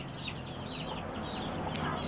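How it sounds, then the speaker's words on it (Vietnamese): Four chickens, black, white and reddish hens with a rooster among them, cluck softly and continuously while being fed, steady low chatter over a constant background hum. "mấy em gà này bây giờ là đang cho ăn có gì chứ ba chẳng đang cho bốn em gà ăn"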